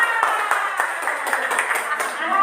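Students in an Indonesian classroom clap for a winning group, a fairly close burst of separate hand claps with a loose rhythm. Voices talk over the clapping throughout.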